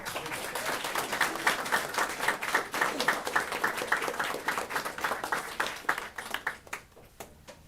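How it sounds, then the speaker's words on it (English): A room of attendees at a board of education meeting gives a round of applause, with distinct individual claps in a moderate, steady patter that thins to a few last claps. "more round of applause."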